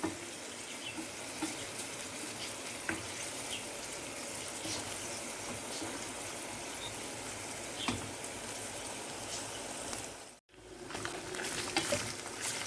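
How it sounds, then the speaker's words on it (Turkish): Minced beef or lamb sizzles steadily in a hot pan while browning for a börek filling, a dense crackling hiss with occasional stirring scrapes and a brief break near the end. "Kıymam bayağı bir kavruldu"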